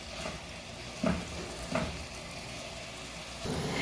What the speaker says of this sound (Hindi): प्याज ऐड करने के बाद हमने इसको ब्राउन कर लेना है।